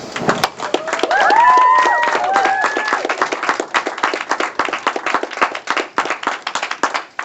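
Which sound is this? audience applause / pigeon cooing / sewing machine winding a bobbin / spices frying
audience applause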